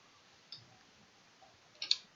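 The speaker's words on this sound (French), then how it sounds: "je vais cliquer tout simplement sur les zones à enlever" Mouse clicks while editing in Adobe Illustrator with the pen tool: a faint single click, then a quick louder double click near the end, each sharp and close, with quiet room tone between and no talking.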